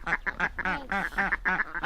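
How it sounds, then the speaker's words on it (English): Muscovy ducks in a permaculture garden giving a run of short, raspy quacks in quick succession, close and clear with no talk. "What about these ducks?"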